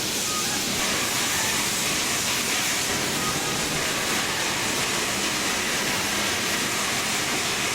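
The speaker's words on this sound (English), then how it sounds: "Right, water's going in at least." Steady rushing water with a broad hissing roar, loud and continuous, as water fills a steam locomotive's tank amid steam in Train Simulator 2016.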